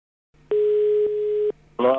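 A telephone dial tone heard while calling a building owner: one steady beep of about a second, then a brief burst of a voice at the end.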